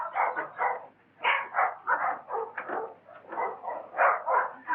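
Dog barking in rapid, repeated bursts of bow-wows and yips, close and fairly loud, in an uneven rhythm with brief pauses between clusters of barks.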